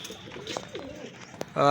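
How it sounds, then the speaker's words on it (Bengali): A pair of domestic pigeons, one female and one male, coo softly in short throaty phrases at close range, with a louder burst near the end. "এটা মাদি কবুতর আর বাম সাইডে একটা নর কবুতর"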